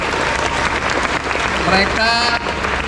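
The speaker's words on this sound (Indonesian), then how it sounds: "Tepuk tangan untuk Bapak Ibu guru semua." Audience at an SMA 14 high school gathering applauds the teachers with loud, dense clapping throughout, while a voice speaks briefly over it.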